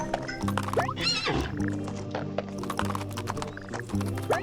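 A horse in the video game What the Golf? gives a loud whinny over repeated clip-clopping hooves, with sharp tapping clicks scattered throughout and no talk.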